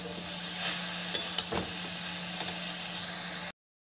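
A banana stem curry with gram flour frying in a pan as it is stirred: constant sizzling hiss with a few sharp clicks and scrapes, then the sound cuts abruptly to silence just before the end.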